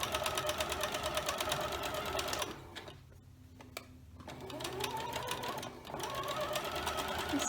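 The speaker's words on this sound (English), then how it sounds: "I'm going to start stitching directly on the diagonal line." A domestic sewing machine stitches along a diagonal line on scrap quilt fabric for a pumpkin block, running in steady bursts with a brief pause in the middle, close and continuous.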